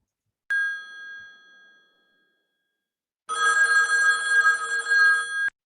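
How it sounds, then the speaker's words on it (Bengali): A telephone ringtone: a single sharp ding decays away, a short silence follows, and then a loud, steady electronic ring sounds with no voices present. "এটা কিন্তু রিংটোন, এটা কিন্তু আপনার যে টেলিফোনের শব্দ এটা কিন্তু DTMF না, এটা হচ্ছে কি রিংটোন।"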